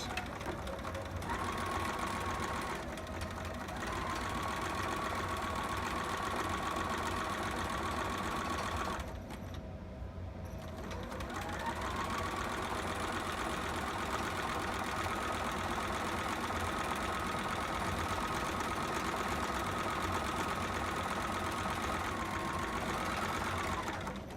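A sewing machine runs in long steady stitching bursts, pausing briefly for the reverse back stitch before running on again, close and continuous with no talk.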